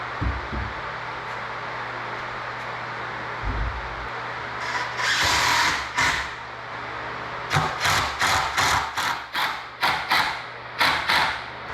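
A power tool drives and tightens bolts on the wooden legs of a DIY picnic table, with repeated short bursts of whirring and knocking that grow into a rapid series of about eight spurts near the end, close and fairly loud.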